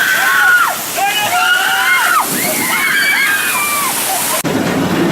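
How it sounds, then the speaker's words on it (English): Steady rushing, sloshing water from the River Rapids raft ride at a Six Flags park, loud and continuous throughout, with people talking and calling out over it. "Washer is the park's River Rapids ride with a super fun name."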